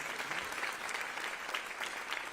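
An audience applauds at a New York governor's announcement on unemployment insurance reform, steady dense clapping from a crowd that holds level throughout without pause.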